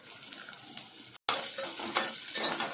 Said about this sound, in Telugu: నూనె వచ్చి ఎర్రగడ్డ పచ్చిమిర్చి వేస్తున్నానండి.